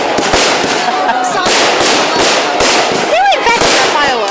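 Crackling firecracker bursts and booming fireworks pop in quick, dense succession at the Potton firework display in 2012, loud and close, with a whistling rocket rising near the end and voices of the crowd faintly underneath.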